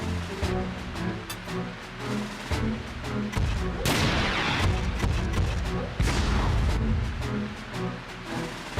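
A grenade blast goes off in the Front Mission 4 mecha game, a loud booming burst that rolls into sustained rumbling and crackling, with repeated gunfire-like impacts and a second surge of noise amid dense, continuous combat sound.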